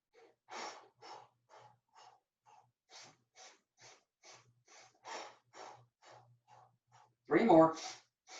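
Quick rhythmic exhaled breaths during the Pilates hundred exercise, a steady train of short soft puffs at close range, ending with a louder, longer breath.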